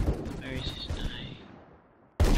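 Sniper rifle shot landing a headshot in a laggy first-person shooter, heard amid a busy wash of game noise and gunfire, with a sharp loud crack right at the end.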